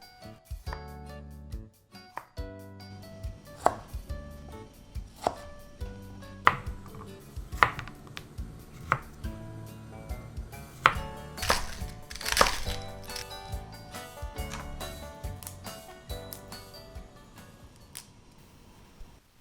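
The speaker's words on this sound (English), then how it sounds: "chop the longer cooking vegetable more finely, unless you purposely want a firm texture" A knife chopping leftover vegetables on a cutting board, with sharp, irregular knocks in uneven bursts, close and fairly loud, with no talking.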